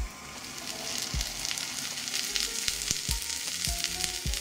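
Neer dosa batter, a spicy coconut dosa made without fermentation, cooks on a hot pan with a continuous close sizzle and crackle, broken by soft scraping taps, with no voices.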